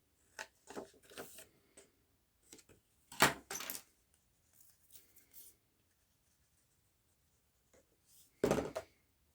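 Bevel cutting of scrapbook paper for a Valentine's album, a sequence of short, sharp scraping strokes with quiet gaps between them, close and moderately loud, several separate cutting passes.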